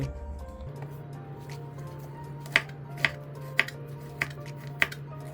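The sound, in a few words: chopping garlic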